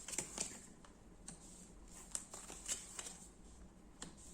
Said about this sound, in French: je vais juste recouvrir quelques cartes